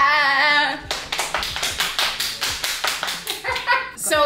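Hands slapping against thighs in a quick rhythmic series of about fifteen sharp claps, close and loud, preceded by a voice and ending as speech resumes.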